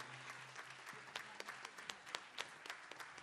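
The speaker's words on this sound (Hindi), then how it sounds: "जोरदार तालियां इनके लिए" Soft, distant applause from a crowd, continuous clapping with occasional louder individual claps, over a low hum at the start.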